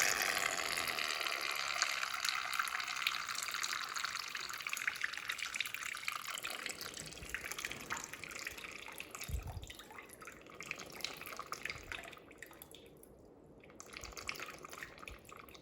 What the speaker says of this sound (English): And the water is draining from the bowl